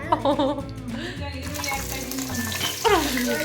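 Onions fry in hot oil for a home-cooked fish curry, giving a steady close sizzle with stirring scrapes, while people talk over it.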